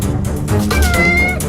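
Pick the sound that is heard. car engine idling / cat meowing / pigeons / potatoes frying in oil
cat meowing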